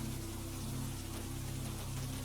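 Rain falling in a forest makes a soft, steady hiss with no distinct drops, constant and even throughout, laid over a low steady hum.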